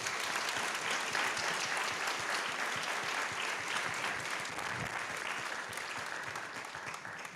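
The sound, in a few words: audience applause for administrative leaders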